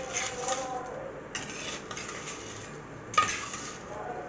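Food being stirred in a clay pot during cooking, with soft scraping and clinking of a utensil against the pot repeating in irregular strokes, one sharper knock near the end.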